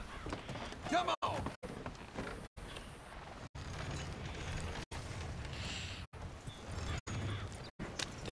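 Horse hooves clip-clopping at a steady riding pace in the video game Red Dead Redemption 2, moderate and close, with faint creaks underneath and brief gaps of silence between stretches.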